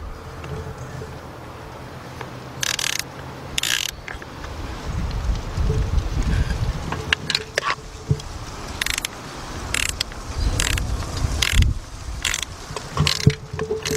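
A ratchet with a 10 mm socket working on a car engine, clicking in repeated short bursts up close with mechanical clatter and handling noise between strokes, no speech.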